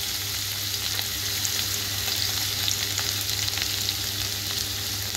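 Chopped onion and garlic sauté in a steel pan, producing a loud, even, crackling sizzle that runs unbroken and close, with faint stirring underneath.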